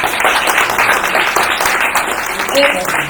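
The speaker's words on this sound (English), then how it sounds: "Give yourself a round of applause" An audience at a celebration-of-life gathering in a cafe claps steadily for about three seconds, a dense continuous patter of hands at moderate loudness, with voices mixed in.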